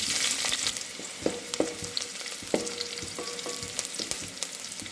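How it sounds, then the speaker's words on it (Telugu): Onions frying in hot oil and ghee with cardamom, cloves, cinnamon and bay leaf for khichdi, a close continuous sizzle with a scatter of spoon clicks and scrapes against the pot, no voices. "ఆయిల్ వేడయ్యాక యాలకులు లవంగాలు చెక్క ఆకు వేసుకుందాం తర్వాత ఆనియన్స్ వేసుకున్నాం"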